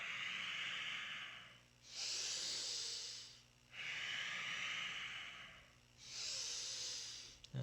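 Slow, conscious yoga breathing during a Kundalini yoga class for back health, with long breathy inhales and exhales alternating steadily and audibly up close.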